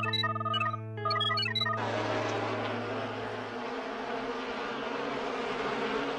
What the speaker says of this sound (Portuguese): Afinal, são apenas abelhas.